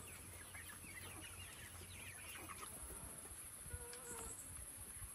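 Free-range Rhode Island Red ready-to-lay hens give faint, scattered clucks and short calls at a distance, over a low background hiss.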